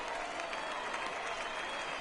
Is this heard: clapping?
yes